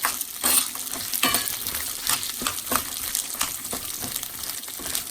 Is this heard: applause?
no